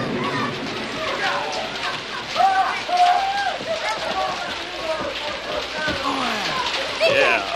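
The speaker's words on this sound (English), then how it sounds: "Rain!" Rain patters and splashes steadily on surfaces in the 1986 children's television show Pee-wee's Playhouse, a dense moderately loud wash with voices talking over it.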